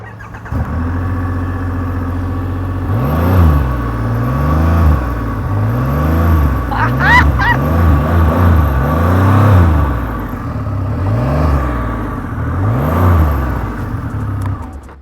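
Triumph Rocket R3 motorcycle revved while standing still, its exhaust note rising and falling in repeated throttle blips, loud and close, with no talking.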